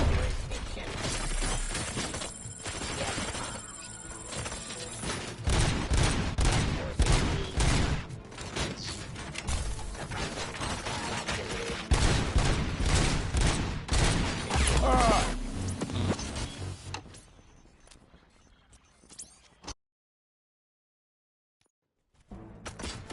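Gunfire rattles through a RoboCop video game in long, dense volleys with sharp bursts and mechanical clatter layered over an electronic backdrop, then the action thins out, drops to near silence and returns faintly at the end.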